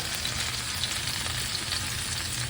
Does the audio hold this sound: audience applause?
no